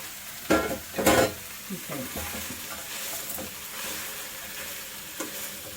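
Curry cooking in a pan on a gas stove, with a steady close sizzle and a couple of sharp stirring scrapes near the start, then softer scraping and bubbling throughout.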